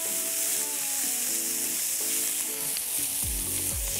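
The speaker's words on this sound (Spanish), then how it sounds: "Qué hermoso sonido, ¿eh? El famoso sonido del éxito. Y se va a dorar la carne." Diced meat browning on a hot disco pan for lentil stew: a loud, continuous close sizzle with a steady hiss and faint clinks of stirring, with no talk.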